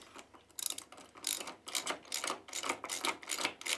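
A ratchet tightens a bolt on a BMW TFT anti-theft bracket, giving quick bursts of clicking in a steady back-and-forth rhythm, close and fairly quiet, with no talking.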